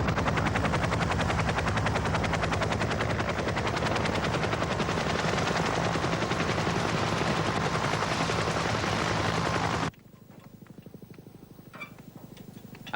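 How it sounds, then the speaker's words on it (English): Iroquois helicopters at an earthquake rescue site loading stretcher patients: loud, continuous rotor beating and engine roar for about ten seconds, then it cuts abruptly to much quieter background with faint thumps. "This continues to be a challenge for the first 2 Iroquois helicopters up here."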